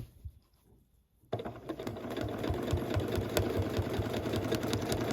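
Sewing machine stitching fabric scraps, a brief hush and then steady, rapid mechanical whirring that runs continuously and fairly close with no talk.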